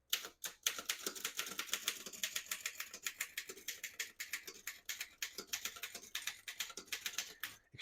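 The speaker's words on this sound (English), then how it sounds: "Extraordinarily smooth machine for how old it is, over 100 years old" A 1923 Underwood No.5 portable typewriter set to type in red clacks away in a quick, steady run of sharp keystrikes, close and clear with no talking.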